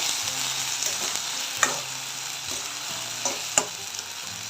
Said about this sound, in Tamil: வெங்காயம் தக்காளி இஞ்சி பூண்டு நல்லா வதக்கிடுவோம்